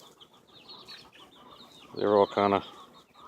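Hens and a rooster cluck near the microphone, with soft murmuring clucks and two loud, close squawking clucks in quick succession, while a person talks over them.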